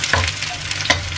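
Shallots, garlic and chillies frying in hot oil, a dense close sizzle with two brief sharper spatters while they are stirred.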